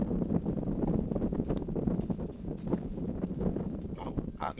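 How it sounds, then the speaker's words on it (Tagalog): Strong gusts of wind buffet the microphone outdoors near the pits, a loud rumbling, fluttering low roar that surges and dips continuously. "Grabe ang hangin."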